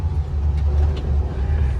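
A Polaris Ranger 1500 Northstar side-by-side UTV driving down a long driveway, its engine a steady, close, heavy low rumble with no voices.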